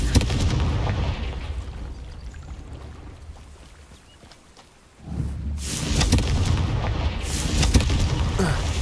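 Confringo spell explosion in Hogwarts Legacy: a loud, rumbling blast erupts after a quieter lull, with crackling debris and sustained noise following it.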